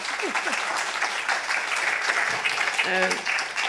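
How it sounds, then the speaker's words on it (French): An audience at a round table discussion on clinical trials breaks into steady, dense applause, with a few voices briefly heard over the clapping. "Je pense qu'on peut vous applaudir."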